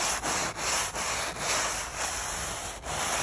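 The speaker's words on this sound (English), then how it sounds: "my best scrubbing" A Polywood table scrubbed with a brush, close rhythmic back-and-forth rasping strokes with brief breaks between them, loud and alone.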